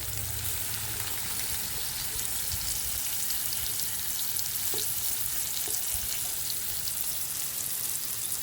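Konkan-style surmai (kingfish) slices frying in a pan, a steady dense hiss of sizzling oil that holds throughout, close and even, with occasional faint pops and no talking.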